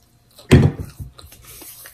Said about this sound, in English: That's just water.